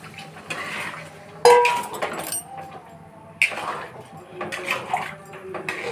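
Water splashes into a pot of chicken curry amid clinking of a pot and utensils, with a couple of sharp metallic knocks and soft stirring, close and fairly quiet, and some faint background voices.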